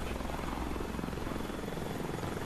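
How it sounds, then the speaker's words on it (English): A Fortnite helicopter keeps up a loud, continuous rotor drone and rapid chop, steady and close throughout with no voices over it. "We got a helicopter."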